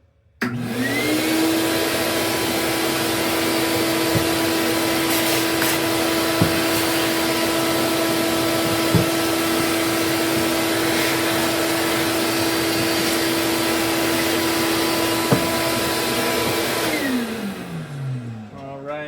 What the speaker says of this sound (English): we're gonna go ahead and vacuum this up a little bit, get all this dust out of the way